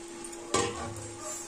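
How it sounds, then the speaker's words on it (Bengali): Meat and fried potatoes being stir-fried together in a pan, a quiet background sizzle broken by one sharp scrape or clatter of a spatula, followed by a softer, continuing fry. "এবার যে ভাজা আলুগুলো আছে এর মধ্যে দিয়ে আবার কষাবো।"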